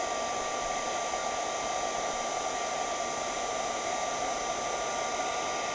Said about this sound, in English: we will just heat emboss this so that this will really stand out